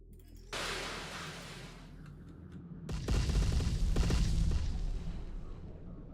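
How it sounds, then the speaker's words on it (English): Artillery barrage in Terminator Dark Fate Defiance, a sudden deep boom followed by a second louder blast and rolling rumbling impacts that linger and fade, no talking. "Potent little barrage."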